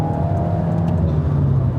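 An Alpine A110 sports car drives along a country road, its engine a steady, loud drone with a hum that holds evenly for the whole short stretch and no talk over it.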